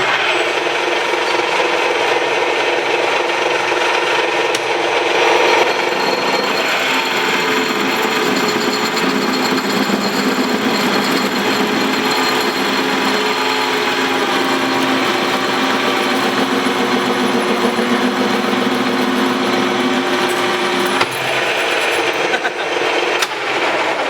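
Metal lathe taking a sixty-thousandths-inch cut, a loud steady grinding hum with a whining tone held throughout, a faint voice now and then underneath.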